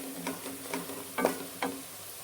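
Ground spices with coriander powder roast in a pan for chana dal and bottle gourd curry, a soft sizzle punctuated by several brief scraping stirs.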